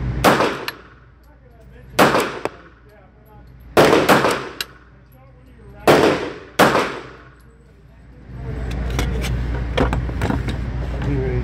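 Loud, sharp shots from an ASAI One Pro .45 ACP semi-compact pistol fired in single action, five or six reports in irregular pairs and singles over several seconds, each followed by a brief ringing decay, then steady background noise.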